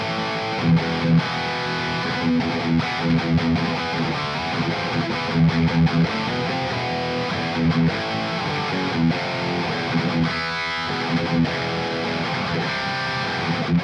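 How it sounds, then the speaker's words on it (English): Electric guitar through a Mooer Prime M2 plays with overdrive, heavy reverb and delay, chords ringing and smearing into one another in a dense, continuous wash. "lo-fi thing with a bunch of reverb and delay, and then like overdrive at the end"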